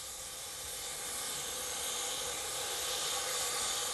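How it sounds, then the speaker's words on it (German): Steady, broadband hissing of escaping steam from a narrow-gauge steam locomotive at Gernrode station on the Selketalbahn in the Harz, constant and fairly loud with no voices. "Überall dampft und zischt es."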